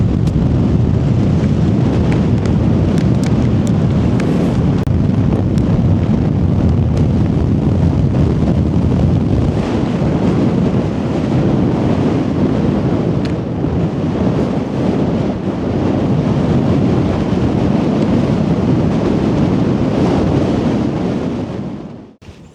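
Strong wind on a mountain ridge in Glencoe roars continuously across the microphone, a loud, dense buffeting rush with gusty swells and no speech, cutting off abruptly at the end.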